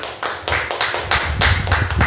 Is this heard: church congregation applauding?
yes